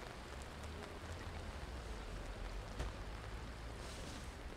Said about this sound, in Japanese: 雨が小降りになってきたぞ。